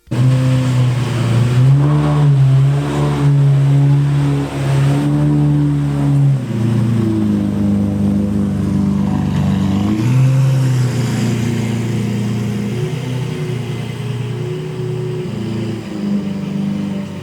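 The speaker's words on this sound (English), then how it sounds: "the best sounding murcielago in the world with the Fab Speed exhaust" A Lamborghini Murcielago engine with a Fab Speed aftermarket exhaust revs loudly and repeatedly, its throaty exhaust rising and falling in deep, rumbling pulls close by, with no talking.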